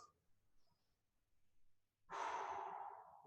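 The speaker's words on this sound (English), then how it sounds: "So deep breath in through your nose." A deep inhale through the nose during a stretching exercise in a PE class, a long, steady, close breath that rises after a quiet pause and carries on for over a second.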